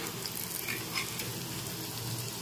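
Chicken nuggets fry crisp in hot oil over a medium flame, giving a steady, close, dense sizzle and crackle throughout, with no voices.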